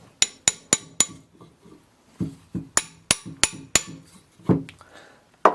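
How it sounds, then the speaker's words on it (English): A polyurethane radius arm bush tapped into a 1982 Classic Mini Mayfair with a spark plug socket and hammer, giving sharp metallic strikes in quick runs of four, then softer duller taps, close and clear with no talking. "I found the best way to do it is find a nice fitting socket and tap it in."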